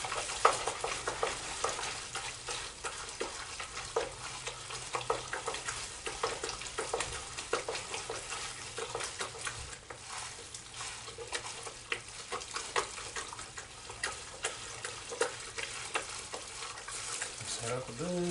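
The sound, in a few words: stirring chili with a mixing spoon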